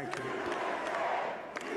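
Crowd at Trump's election victory speech chanting "USA" in rhythmic bursts, a distant roaring mass of voices with repeated shouted pulses.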